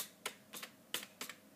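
Computer keyboard typing a Minecraft command: four quick clusters of crisp key clicks, close and fairly quiet, spaced evenly with brief pauses and no talking.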